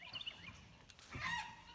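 Backyard chickens fussing and squawking as they head into the coop to roost at dusk, a few scattered harsh honk-like calls with a louder burst near the end, fairly faint over a quiet outdoor background.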